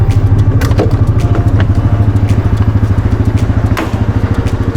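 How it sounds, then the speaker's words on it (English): A 2023 Yamaha 700cc engine idles steadily with a low, rapid, even pulsing throb, loud and close, with no voices over it. "look at this beautiful Yamaha 700cc"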